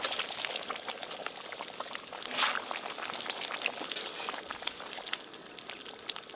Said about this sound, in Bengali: চিকেন চাপের গ্রেভি ফুটে গেছে